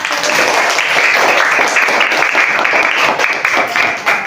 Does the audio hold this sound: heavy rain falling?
no